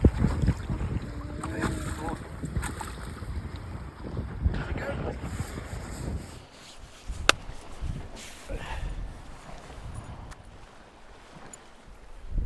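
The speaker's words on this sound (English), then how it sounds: "20-mile-an-hour winds, 30-degree temperatures." Gusty wind of about 20 miles an hour buffets the microphone on a lake while bass fishing in freezing temperatures, a loud rushing roar with water chop and boat noise, easing briefly then picking up again.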